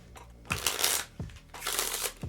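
Deck of playing cards riffle-shuffled twice in quick succession, each a bright, crisp flutter of cards ending in a soft tap, close and clear with no talking.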